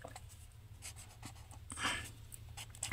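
Pen or pencil scratches out a fourth-grade math solution, giving faint short strokes at an uneven pace over a low steady hum, with one slightly louder scrawl in the middle.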